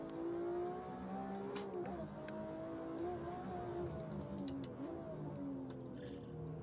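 A BMW M1 Procar engine drones steadily on a Nordschleife hotlap in a racing video game, a sustained tonal engine hum with rising and falling pitch and faint ticking clicks, fairly quiet.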